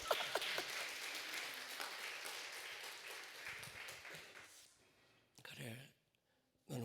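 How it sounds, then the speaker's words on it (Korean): A church congregation in Incheon claps during a sermon, a dense wash of applause lasting about four seconds before it fades out. A voice briefly speaks afterward. "자, 박수 한번 쳐주세요"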